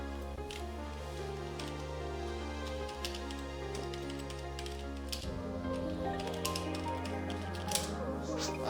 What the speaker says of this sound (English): I'm typing in PSO!